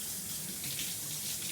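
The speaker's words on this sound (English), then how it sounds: "let me wash my hands" Tap water runs steadily into a sink as hands are washed, a continuous close hiss and splash with no talking over it.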